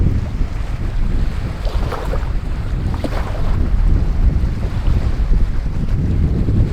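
Strong wind buffets the microphone while fishing from a yacht off the Croatian coast, a loud continuous roar with faint water and boat noise underneath and no talk.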